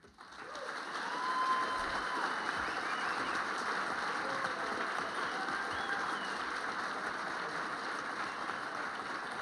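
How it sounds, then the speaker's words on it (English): An audience applauds at a Michigan senatorial debate held at the Detroit Economic Club, steady sustained clapping from a large room filling the whole stretch at moderate volume. "a round of applause for both candidates"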